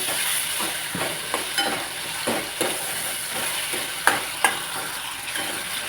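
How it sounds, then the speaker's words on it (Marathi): Onion and garlic masala roasting in oil for a Solapur-style chutney, a steady sizzle and fry throughout with occasional soft stirs and scrapes of a utensil against the pan, close and alone. "तेल सुटेपर्यंत मसाला भाजला गेलेला आहे"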